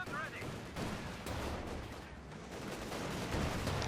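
Tank gunfire from a T-70 in Company of Heroes 2 comes as dense, faint bursts of shots and battle noise running continuously beneath a commentator's voice.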